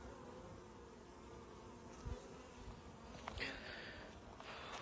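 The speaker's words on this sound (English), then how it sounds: "Nice calm bees from my original hive that I bought over a year ago." Calm honeybees at a beehive make a soft, steady, continuous buzz, faint and close, with a few slightly louder passes.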